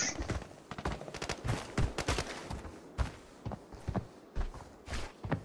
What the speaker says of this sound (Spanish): Un bot en el hueco le está disparando a ustedes.